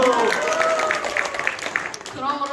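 Church congregation at a Bible recitation contest clapping briefly, a soft spread of applause under a talking voice that continues over it and after.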